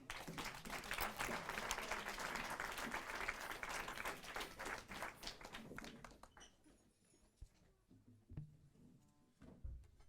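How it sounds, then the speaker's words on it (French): Congregation at a Christmas church service applauding a group of young singers, loud sustained clapping that fades out partway, followed by scattered low sounds and a hushed room. "Vous pouvez applaudir ces jeunes."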